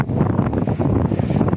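Strong typhoon wind battering the coast during Typhoon Kong-rey, a loud continuous roar buffeting the microphone throughout, with no voices.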